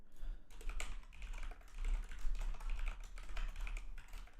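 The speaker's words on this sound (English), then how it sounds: "Typing too fast for my own good." Fast, dense typing on a computer keyboard during a coding session, with continuous rapid key clatter close to the microphone and no talk.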